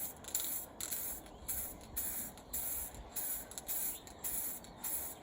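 An aerosol can sprays coating onto a white fishing tackle top kit in a string of short, evenly spaced hissing bursts, close and fairly quiet, with no talking.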